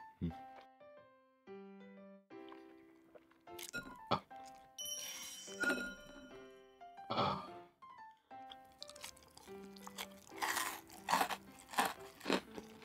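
Crispy fried chicken karaage is bitten and chewed, with crunchy bites and chewing noises mixed with background music and brief voices.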